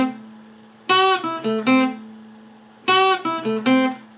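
An electric guitar plays a short phrase of a song's solo, picked notes with bends and landings, played twice in close succession over a faint sustained tone.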